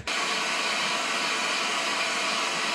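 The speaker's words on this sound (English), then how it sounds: "2, heat gun. 3, more heat." A heat gun blows continuously at close range while heating a seized aluminium seatpost in a steel bicycle frame, a steady loud airy roar with no pauses.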